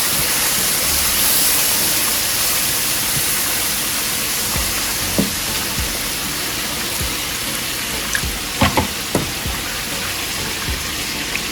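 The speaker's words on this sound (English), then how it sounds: "So, you're going to add cold water." Cold water is poured a little at a time into a pan for gravy while making smothered fried chicken, a steady close rushing splash that runs throughout, with a few small clinks near the end.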